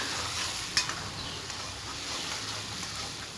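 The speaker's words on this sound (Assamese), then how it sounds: "মছলাখিনিয়ে তেল এৰি দিয়ালৈকে ভাজিম।" Spice paste fries and is stirred in a pan of oil for chicken pulao, a steady soft sizzle with a few small scraping clicks of the spoon, no talking.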